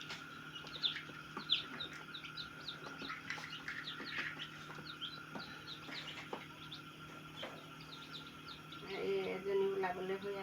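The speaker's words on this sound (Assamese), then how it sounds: "পোৱালি ওলাই আছে, ভালে ওলাই আছে।" A hen and newly hatched chicks give faint, scattered peeps and soft clucks close by, with a brief louder burst of chirping near the end, over quiet background noise.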